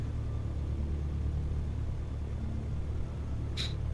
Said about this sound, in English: Almost sounds like a car starting.